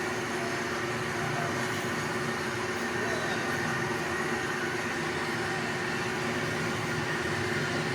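A dewatering pump set drains flood water, giving a steady, dense mechanical drone and rushing roar that holds constant and loud throughout.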